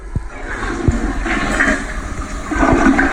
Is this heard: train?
no